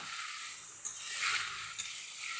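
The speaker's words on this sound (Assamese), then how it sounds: "অকণমান ৰঙাকৈ ভাজি ল'ম।" Soft, steady sizzling of spices and turmeric powder frying in hot oil for matar paneer, with a couple of light stirring clicks.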